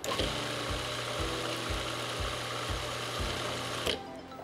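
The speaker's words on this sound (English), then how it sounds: "and we blend it again" A kitchen blender whirs steadily as it blends pesto with olive oil and grated pecorino romano, a loud continuous motor drone with a rhythmic pulsing throb that cuts off near the end.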